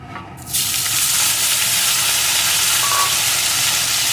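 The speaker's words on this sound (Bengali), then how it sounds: "এখন টমেটোটাও একটু ভেজে নেব" Chopped tomato with tempering spices hitting hot oil bursts into a loud, dense sizzle after a brief quieter moment, then holds as a steady close frying roar with no speech.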